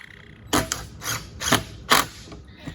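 A wrench ratchets bolts tight on wooden boxes that conceal wire chases, giving four or five close, crisp clicking bursts in an uneven rhythm over a quiet room.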